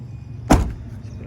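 A 2003 Honda CR-V door shuts with a single solid, close thump that rings briefly and fades, with no talk over it.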